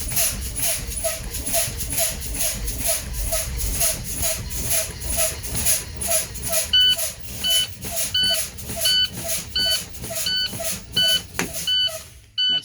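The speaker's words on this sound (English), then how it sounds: "Before reaching 60 psi, my alarm and light will come on." A school bus low air pressure alarm beeps in a steady repeating pattern while the brakes are fanned, with hissing air bursts and handling noise underneath and a second higher tone joining partway through.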